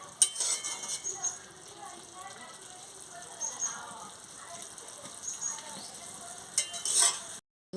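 Boiled potato and eggplant being stirred in a pan, with quiet, intermittent scraping and clinking of a utensil against the metal in irregular bursts.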